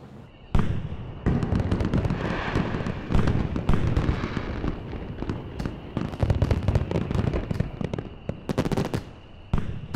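A dense barrage of fireworks goes off nearby. Rapid, loud crackling bursts and bangs pile on top of one another almost without a break, thinning briefly before a final cluster.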